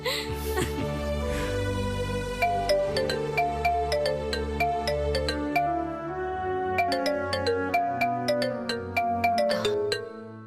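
A phone ringtone plays a bright repeating electronic melody, loud and near, cycling through its tune several times without pause.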